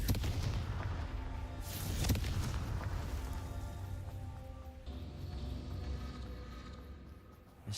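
Confringo fire-blast spell exploding in the Hogwarts Legacy video game, a couple of loud booming blasts over a dense rumbling game soundscape, no talk.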